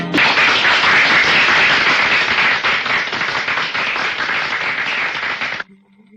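Loud, sustained applause from a large crowd, dense clapping throughout that cuts off abruptly near the end.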